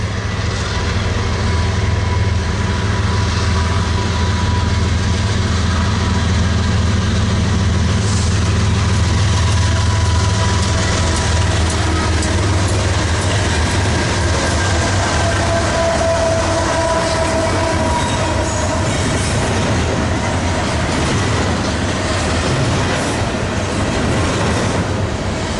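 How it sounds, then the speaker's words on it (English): Freight train passing at Commerce: loud, continuous rail noise heard close up, with a deep steady rumble, rolling wheel clatter and occasional squeals held for the whole stretch, and no talk. "Or it could be a Q train or additional Z train"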